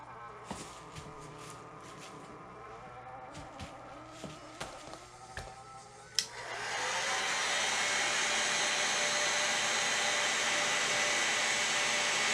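A heat tool blows hot air onto crayon wax on a tumbler, a loud steady whirring roar that starts partway through after a stretch of quieter clicks and handling noises.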